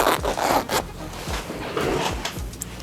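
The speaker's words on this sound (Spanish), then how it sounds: "Entonces bajo mi cremallera" A zipper on a pleated skirt is pulled down in several short, rasping strokes, close and fairly quiet, with no speech.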